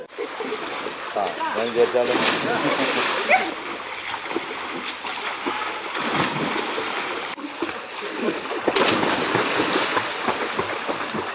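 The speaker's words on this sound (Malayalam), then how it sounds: "മഴയെത്തിയതോടെ നിറഞ്ഞു കവിയുന്ന കുളത്തിൽ നീന്തി കുളിക്കുന്നതിന് നിരവധി പേരാണ് വരുന്നത്." People swimming and bathing in a village pond brimming after monsoon rain: steady splashing and churning water, fairly loud, under a continuous voice talking.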